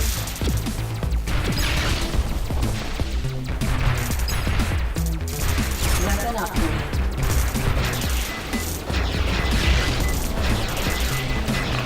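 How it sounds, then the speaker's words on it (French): Dense, nonstop barrage of blasts and crashes from a video game cannon firing many projectiles at once in Sky Force, loud and chaotic with layered impacts and mechanical clatter. "Vous constatez donc mon canon qui tire pas mal de projectiles d'un coup"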